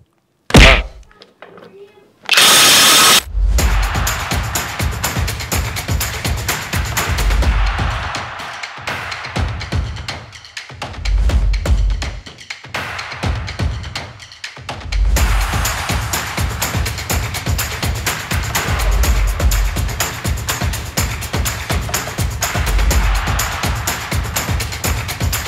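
A large 3/4 inch Violeworks impact wrench set to 1400 Nm hammers away in long, loud, rapid bursts, close by, with short pauses between runs and a few sharp knocks at the start.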